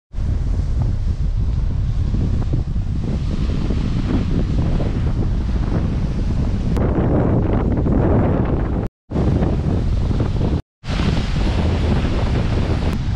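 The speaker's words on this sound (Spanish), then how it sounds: "Aquí pega muchísimo viento y toda la brisa del mar. Las olas están gigantes." Strong sea wind roars steadily against the microphone at a Cancún beach near a lighthouse, with big surf crashing beneath it, loud and constant with two brief cut-outs.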